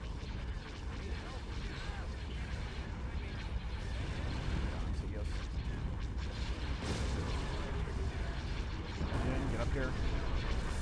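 Turbolaser batteries fire in a Star Wars: Empire at War space battle at Ylesia, played with the Thrawn's Revenge mod: a dense, continuous barrage of overlapping booming blasts and rumbling, loud and unbroken throughout.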